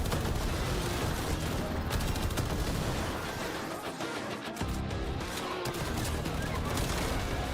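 A new gun firing in the Warframe video game, with dense, sustained loud gunfire that dips briefly midway and then continues, mixed with heavy game battle noise.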